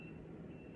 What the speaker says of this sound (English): That was just a alarm in the background.